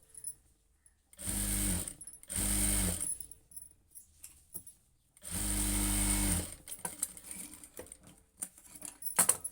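Sewing machine stitching the lining of a blouse, three loud bursts of rapid whirring stitching separated by pauses, the last one longer, followed by scattered small handling clicks and taps.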